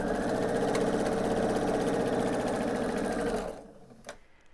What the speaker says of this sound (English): And finish sewing this seam to complete my block